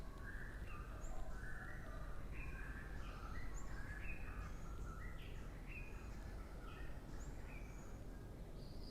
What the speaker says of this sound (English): And the birds are so loud here this morning.